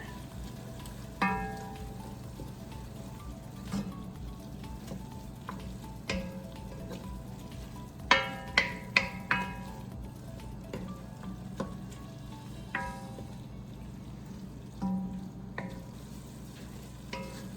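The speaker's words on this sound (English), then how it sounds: "We're gonna stir that all together." Food stirred in a pot during home cooking before beef broth is added, a soft steady sizzle with intermittent scraping and clinking spoon strokes against the pot, some clustered in quick succession, close and without talk.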